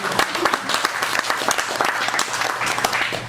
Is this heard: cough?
no